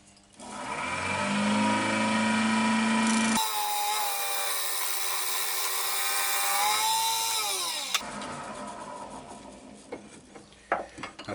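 Wooden box base faced off on a lathe: a loud continuous whirring spin with a scraping cut in the middle stretch, then the motor winding down followed by light knocks and clatter, close with no talking.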